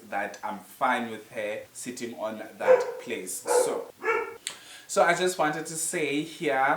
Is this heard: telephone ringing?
no